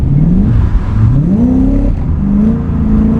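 A 1UZ V8 in a Nissan S14a 200SX roars loud and close while drifting, its note rising as the revs climb, dipping briefly, then holding a steady snarl.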